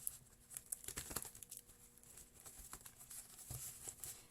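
Tarot cards being shuffled by hand, with soft irregular riffling patters and crinkly flicks close up, quiet, in uneven bursts.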